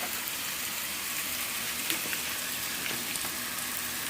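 Food browning in a pan while cooking Thai rad na noodles, giving a steady fine crackling sizzle with scattered louder pops, moderately close and running on its own without talk.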